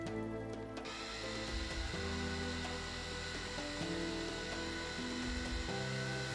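A small toy drone starts up and hovers, its steady multi-tone motor whine holding fairly level throughout with a faint mechanical buzz and shifting pitch, heard close and alone.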